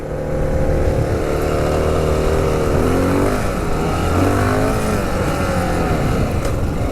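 A Honda XR650L single-cylinder adventure-built motorcycle with a 14-tooth sprocket ridden in first gear off-road, its engine droning steadily and loud throughout, rising and falling with throttle changes.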